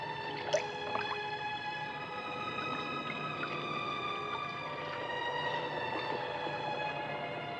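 Clear mountain water dripping and trickling in an old gothic horror film, soft scattered drips over a gentle continuous liquid wash, fairly quiet and steady, with a faint musical tone in the background.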